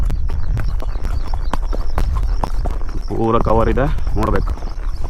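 A horse ridden in Davanagere, Karnataka walks with a steady clip-clop of hooves close by. Someone talks over the hoofbeats and another voice briefly chimes in.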